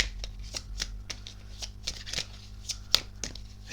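Tarot cards being shuffled and handled up close, a quick run of soft papery riffles and light taps with one sharper snap near the end, with no voices.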